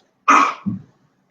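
A single sharp sneeze from a child, close and fairly loud, with a quick burst followed by a short lower tail, then silence.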